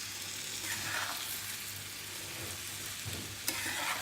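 Rice for a Calcutta-style biryani being gently stirred in a pot, a soft continuous scraping and rustle over a steady low sizzle, with a slightly sharper scrape near the end.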